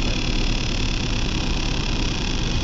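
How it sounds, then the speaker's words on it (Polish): A truck engine drones steadily in Euro Truck Simulator 2, a loud, even rumble that holds without break and with no voices over it. "Cisza, słyszycie tylko głos silnika"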